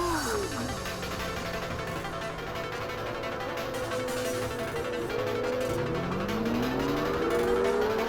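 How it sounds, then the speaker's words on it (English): Racing cars in Forza Motorsport (2005), a continuous loud engine drone with several whining pitch sweeps as cars rev and shift close behind, building steadily without pause. "I can hear like the cars behind me"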